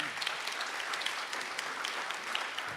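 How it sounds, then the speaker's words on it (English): An audience at an energy conference in Maui applauds with a steady, distant patter of many hands, faint and continuous for nearly three seconds. "maybe we can give them a round of applause"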